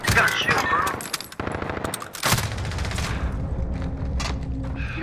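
Rapid, loud bursts of gunfire crackle in Call of Duty: Modern Warfare online play, with clustered shots and brief pauses over a busy game background, while a player talks.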